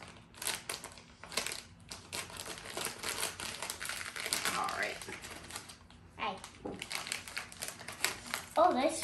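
Crinkling plastic packaging and snipping, rustling handling noises that continue through the clip, with a voice speaking briefly near the end.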